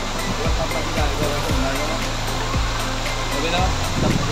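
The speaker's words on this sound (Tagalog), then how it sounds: "Here we go, ito na ang Bambi Falls." Bambi Falls waterfall roaring loud and steady at close range, a dense continuous rush of cold water with low thumps from handling or footsteps underneath.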